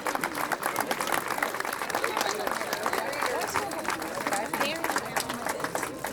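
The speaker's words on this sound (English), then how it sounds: "Please give them a round of applause as the Rowdy Raiders would." Rowdy Raiders crowd cheering and applauding 2024 Hall of Fame inductees, a dense, loud wash of clapping and shouts that runs steadily throughout, with crowd babble mixed in.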